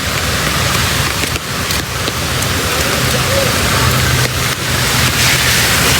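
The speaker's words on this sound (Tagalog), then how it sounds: "Grabe gid ang ulan." Heavy rain pours steadily over a plaza, a dense, continuous hiss with brief dips and faint background rumble, no clear talk.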